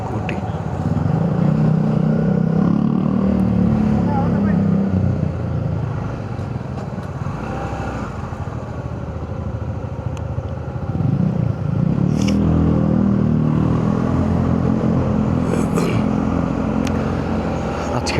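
A scooter rides by on a road in Malta on a Sunday ride, its engine hum rising and fading in two swells amid traffic noise, with a rider talking over it.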